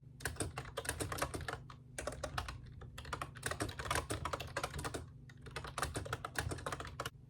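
Fast, continuous typing on a computer keyboard during a writing session, with dense clattering keystrokes in long bursts separated by short pauses, close and clear over a low hum.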